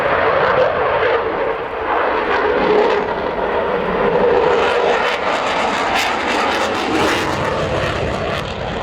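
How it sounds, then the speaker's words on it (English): RAF Eurofighter Typhoon flying slowly past at an airshow with landing lights on, a loud continuous jet engine roar and rumble that shifts in tone as it passes, with no talk. "You can see the jet slowing down"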